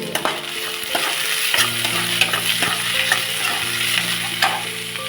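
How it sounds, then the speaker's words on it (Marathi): Tomatoes and green chillies sauté in a pan for rava upma, a loud crackling sizzle with repeated scraping and tapping of a spoon as they are stirred, over faint steady tones in the background. "त्यामध्ये आपण टाकूया आता टोमॅटो आणि टोमॅटो सुद्धा परतून"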